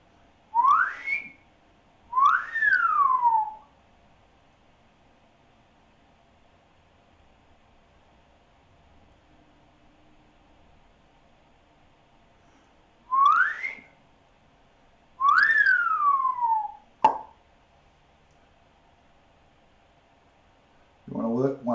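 Someone whistles in short swooping phrases, rising then falling, in two pairs separated by long quiet gaps, clear and close against a faint steady hum, with a sharp click near the end.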